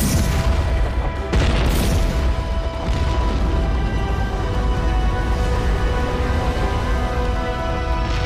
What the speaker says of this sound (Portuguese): Capazes de arremessar uma bala de canhão em um alvo a 2 quilômetros de distância.